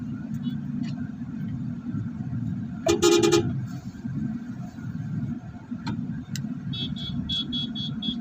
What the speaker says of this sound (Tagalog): Ayan, nagka-traffic na po ngayon.